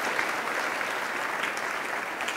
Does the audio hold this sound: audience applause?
yes